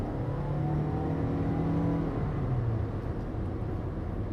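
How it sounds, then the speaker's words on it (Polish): A 2019 Toyota RAV4 Hybrid FWD engine revving loudly and steadily as it accelerates, a constant droning hum heard from inside the car. "Owszem, jest głośno, ale to jest tylko moment przy przyspieszaniu."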